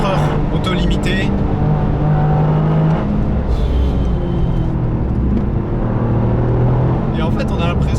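A Toyota GR Yaris three-cylinder engine revs and accelerates hard through the gears, a loud, continuous, rising and falling engine note with pitch sweeps, heard from inside the car with a voice talking over it.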